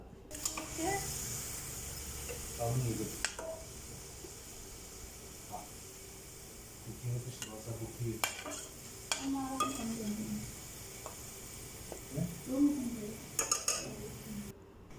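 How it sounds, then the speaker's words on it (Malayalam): Soft sizzle of sliced onions deep-frying in oil runs throughout, broken by utensil clinks and scraping, with faint voices in the background. "ഒരു 4 ഇടത്തരം സവാള സ്ലൈസായിട്ട് അരിഞ്ഞത് വറുത്ത് കോരി എടുക്കുക."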